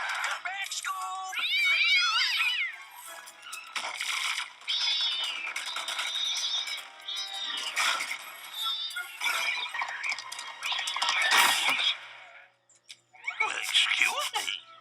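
Several cats in a Scooby-Doo video game meow repeatedly in close, loud bursts with high wavering cries, mixed with talk and small clinks.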